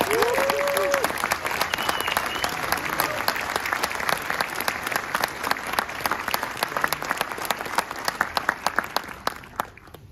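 Crowd applause for award winners at a military pilot training graduation ceremony, steady dense clapping throughout with a few sharper nearby claps rising toward the end and a brief voice early on.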